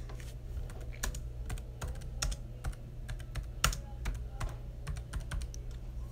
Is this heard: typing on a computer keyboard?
yes